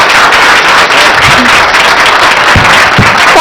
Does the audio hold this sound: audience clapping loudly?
yes